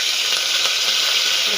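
Washed curry leaves with tempering spices, garlic and dried chillies crackling in hot oil, a continuous close, bright sizzle with no voices over it.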